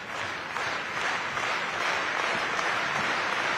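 A wrestling crowd at a Great Muta versus Shinsuke Nakamura match claps together in a dense, steady wash that fills the arena, loud and continuous with no voices.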